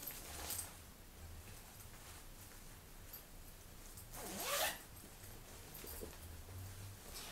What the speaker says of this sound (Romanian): înăuntru mai are un buzunar care se deschide și se închide cu ajutorul fermoarului